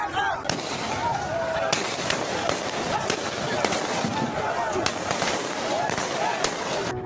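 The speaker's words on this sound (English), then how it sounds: "Sounds of gunfire have exploded on the streets in Nigeria's commercial capital, Lagos" Gunfire cracks out repeatedly on the streets of Lagos, Nigeria, in irregular, sharp bursts, some sounding nearer and louder than others, over a constant noisy background.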